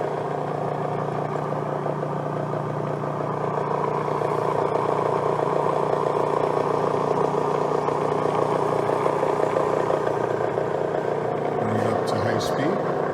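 A Bridgeport Series I vertical milling machine running at 500 RPM in high range, producing a steady, loud mechanical whir and hum with a constant drone and a few light clicks near the end.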